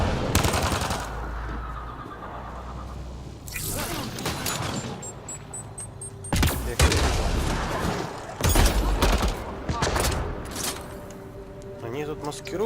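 Gunfire in the video game Mass Effect Andromeda, with repeated loud bursts of automatic fire and booming impacts separated by quieter stretches, while someone talks over the combat.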